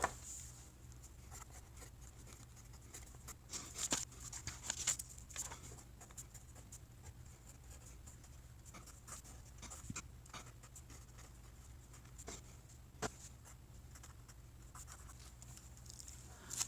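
Pen strokes on paper while equations are written out by hand, a faint, close, irregular scratching with small ticks and pauses, quiet and without talking.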